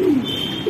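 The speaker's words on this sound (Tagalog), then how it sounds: "nandito na yung mga ibon natin" Returned racing pigeons give a short, close, low coo that stands alone over steady outdoor background noise.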